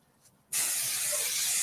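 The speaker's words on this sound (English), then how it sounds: "I'm going to give it another spray." Repositionable spray adhesive bursts from a can onto a stencil: after a half-second of near silence, a loud, close, steady hiss starts abruptly and continues to the end.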